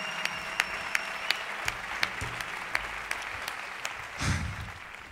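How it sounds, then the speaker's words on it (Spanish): Audience applause for a translator during a talk at the TamTam DrumFest drum festival in Seville, a fairly soft, steady wash of clapping with a few sharper claps standing out and a brief voice near the end. "El aplauso para él."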